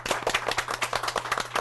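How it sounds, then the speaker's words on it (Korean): Audience applause for two event hosts at the close of a Korean CEO talk, a dense, steady patter of many hands clapping close by, continuing without a break for the whole stretch. "오늘 수고하신 두 분 MC분들께 박수 부탁드리겠습니다"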